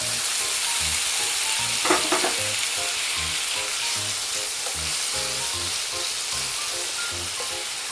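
Tomatoes and garlic frying in a pan for a Basque-style sauce with braised ham, a continuous dense sizzle close up with occasional soft stirring knocks.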